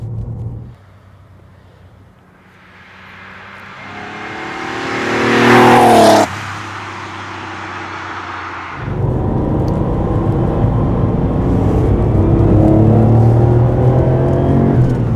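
A 1993 Porsche 964 3.6 Turbo engine idles, then revs up to a loud high-pitched scream, drops off, and settles into a deep steady rumble.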